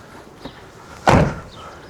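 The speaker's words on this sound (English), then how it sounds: "you're going to slam your car door" A car door slams shut once, a loud, solid thud that follows a faint earlier knock, with no talking.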